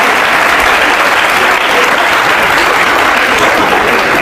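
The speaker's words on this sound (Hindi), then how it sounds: "ताली बजाओ मेरे लिए यार" Studio audience applause on an Indian TV courtroom-style talk show, a loud, dense and steady clapping that fills the whole stretch without pause.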